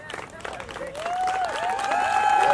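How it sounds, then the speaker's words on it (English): Rally audience applauding, a dense patter of clapping from a crowd that builds steadily over a couple of seconds, with a few faint voices mixed in. "Let's give another round of applause"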